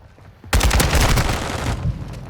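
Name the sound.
AK rifle gunfire in the video game Modern Warfare II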